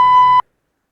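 A single short censor beep, a steady pure electronic tone lasting under half a second, loud and alone, cutting off abruptly into silence.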